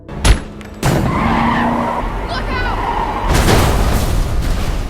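Action-film car chase: a sharp gunshot blows out a tyre, then a car skids with a long screeching slide and slams into a parked van, loud and close with a heavy crunching impact near the end.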